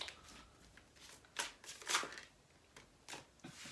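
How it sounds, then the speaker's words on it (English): Tarot cards are shuffled close by, quiet papery riffles and soft slaps arriving in irregular bursts over a near-silent background. "As I started shuffling"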